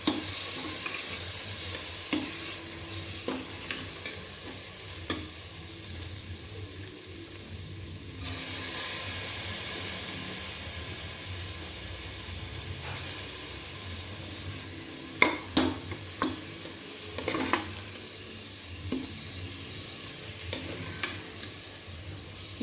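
Washed, soaked lentils fry in oil as they are stirred, giving a quiet continuous sizzle broken by irregular spoon scrapes and clinks against the pan, with a few sharper knocks in the second half.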